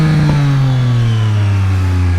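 Triumph Street Triple 765 RS with a SPARK exhaust revving hard, a loud, close engine note that climbs in pitch as the bike pulls through a gear, steady and uninterrupted with no voices.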